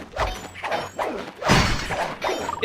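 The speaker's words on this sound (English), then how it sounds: "is, like, breaking stuff too loud?" Repeated crashing and shattering bursts from breaking objects in the PS5 game Sly 2: Band of Thieves, several loud smashes in quick succession.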